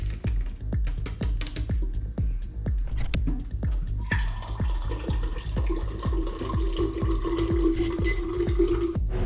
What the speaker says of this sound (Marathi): तर मी आता हे टाकतो एका बॉटलमध्ये आणि पाणी टाकू आपण